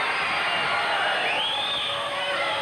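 Small but loud wrestling arena audience cheering and whooping in a sustained, dense roar that swells briefly, with voices blended into the din.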